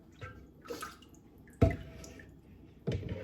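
Beef broth is ladled into a canning jar fitted with a black mesh screen, heard as a few separate liquid pours and splashes with soft drips between them, close by and without talk.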